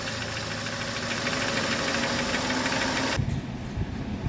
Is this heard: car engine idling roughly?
yes